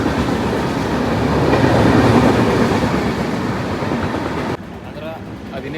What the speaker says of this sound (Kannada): ಅಂದ್ರೆ ಅದಿನೇ ಹೋಯ್ತಲ್ಲ ಟ್ರೈನ್